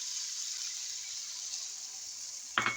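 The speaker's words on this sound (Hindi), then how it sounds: "अब मैं डाल दूँगी इसमें एक छोटा वाला कप पानी का" Potato and capsicum curry sizzles steadily in a pan until a small cup of water is tipped in near the end, causing a sudden brief splash and hiss.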